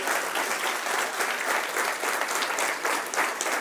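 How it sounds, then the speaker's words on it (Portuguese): A church congregation bursts into strong, steady applause that fills the room, dense continuous clapping holding at full volume from start to finish with no voices standing out. "dê um aplauso forte para o Senhor Jesus."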